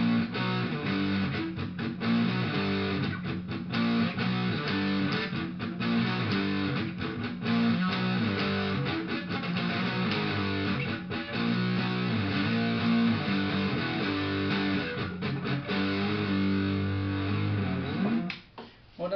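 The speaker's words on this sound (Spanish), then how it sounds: "Ahora subiré todo el distorsionador a la mitad." Electric guitar played through a distortion pedal set to half gain, a Boss Overdrive or Arion Metal Master, with steady chords and notes ringing continuously and loud, no talking.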